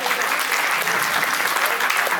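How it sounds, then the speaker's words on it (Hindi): Audience applause at the Rajasthan Karmveer Award 2024 ceremony, a dense, loud, continuous wash of clapping from a large crowd filling the whole moment. "जोरदार तालियां"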